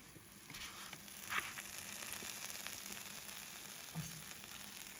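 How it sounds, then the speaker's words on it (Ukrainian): Food frying in a pan on the stove, with steady low sizzling throughout and a couple of brief louder crackles or stirring clatters, heard alone without speech. "Смажте недовго, адже всі інгредієнти готові."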